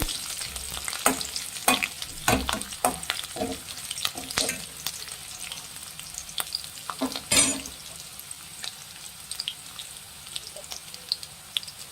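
Curry leaves and green chilies fry in hot oil, giving a steady crackling sizzle broken by sharp pops and spoon-stirring clatter, close and alone without speech.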